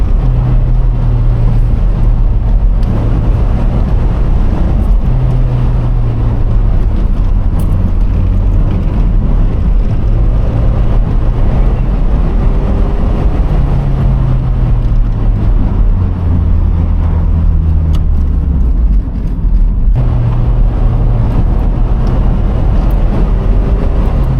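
A Toyota MR2 driven hard along a country lane, its engine droning loud and steady throughout, the pitch rising and falling through the gears beneath heavy wind rush.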